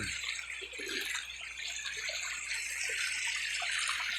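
Water from a river rushes and splashes in a continuous broadband wash, steady and fairly close, with no voices.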